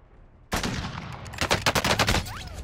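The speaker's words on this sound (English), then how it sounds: "I'm taking fire!" Gunfire in the video game Warzone: after a quiet lead-in, a sudden loud burst opens a rapid string of close shots that crackle in quick bursts until the end.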